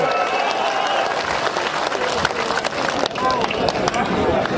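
A large political rally crowd claps loudly and continuously, dense overlapping applause mixed with cheering voices and crowd babble, close and sustained throughout.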